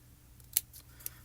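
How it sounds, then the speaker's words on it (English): Small, sharp scissors snip card stock with two quick, crisp cuts, close and fairly quiet, against a soft background hum. "These sharp little scissors."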